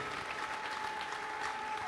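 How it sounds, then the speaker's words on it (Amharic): A church congregation claps together in a steady, even patter that sounds somewhat distant and subdued. A faint steady tone runs underneath. "ለእግዚአብሔር ክብር አጨብጭቡለት"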